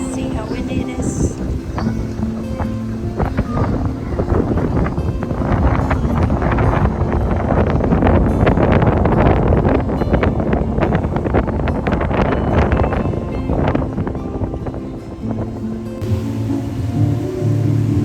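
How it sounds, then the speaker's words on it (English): Strong wind outdoors in Kona, Hawaii, buffets the microphone with continuous roaring gusts, and voices are faintly audible underneath. "See how windy it is?"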